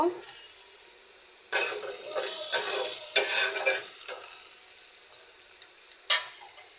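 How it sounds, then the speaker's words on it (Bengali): Onions and spices fry and get stirred in a pan, a steady sizzle broken by several loud scraping strokes of a spoon, close up and with no talk. "এখন মশলাটাকে ভালো করে কষায় নিব পেঁয়াজটা ভাজা হলে সমস্ত মশলা দিয়ে দিব"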